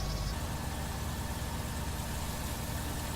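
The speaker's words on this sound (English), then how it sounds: "Get the engine going because we're nearly there." A tractor or harvester engine idling steadily in Farming Simulator 19 during a soybean harvest, a constant low rumble that holds at an even loudness throughout with no voices.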